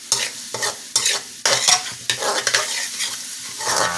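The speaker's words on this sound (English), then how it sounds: "after you add the garlic, you whisk it around a little bit." Garlic stirred and frying in a pan for okra rice with salt fish: close, rhythmic scraping strokes over a constant sizzle. A voice briefly utters a word.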